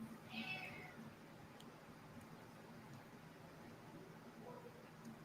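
A house cat gives one short, fairly faint meow near the start, followed by quiet room noise.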